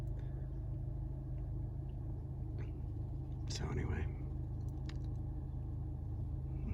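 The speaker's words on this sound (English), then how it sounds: "The only soundtrack I need is here in the engine, so that I can properly time my downshifts and things like that." A Honda Civic Type R engine rumbles low and steady from inside the car while driving, with a soft-spoken voice talking briefly over it.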